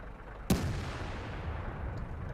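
A single tank cannon shot in World of Tanks fires with a sharp, loud blast, and its rumble lingers over steady low background noise for a couple of seconds.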